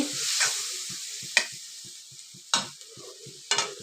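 Water poured over potatoes in a hot pan, with bursts of hissing sizzle and steady scraping stirs, several sharp splashes spaced through the few seconds, close and clear.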